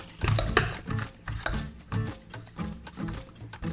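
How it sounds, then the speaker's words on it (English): Soft dates being mashed into nut butter, heard as a run of soft, damp thumps and squishes in an uneven rhythm, close up and fairly quiet. "Oh, these dates are so soft, you can just mash them right up."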